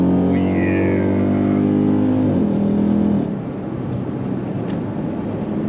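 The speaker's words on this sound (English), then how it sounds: "Damn, that exhaust sounds good." A Dodge Durango SRT 392 engine revs hard with a deep, droning exhaust note for a few seconds, then eases off into a lower, rougher rumble.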